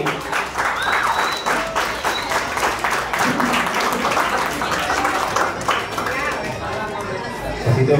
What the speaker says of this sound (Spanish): Aplausos para Dominic